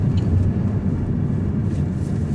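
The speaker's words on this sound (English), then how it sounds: "Obviously it's a 3-cylinder turbocharged engine" The 1.2-litre three-cylinder turbocharged engine of a 2018 Opel Grandland X makes a steady, deep droning rumble, heard loud and close without a break.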